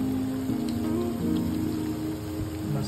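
Moong dal fritters deep frying in hot oil, a continuous soft crackle and sizzle with scattered pops, steady and close, no speech.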